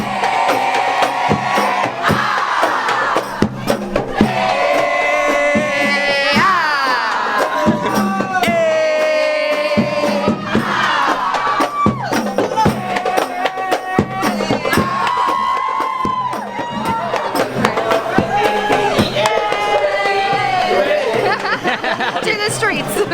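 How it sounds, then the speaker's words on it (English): Large festive crowd celebrating Malaysia Day in Kuala Lumpur, a steady loud hubbub of chatter and laughter with nearby voices talking over the babble throughout. "I wasn't expecting this much of a crowd, but it is so good to see."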